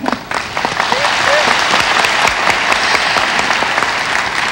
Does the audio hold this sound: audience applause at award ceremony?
yes